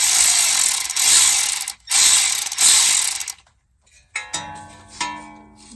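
A ratchet backs out the 10mm speed sensor bolt on a 2013 Nissan Pathfinder in several loud, close bursts of fast clicking, followed by a pause and a few sharp metallic clinks.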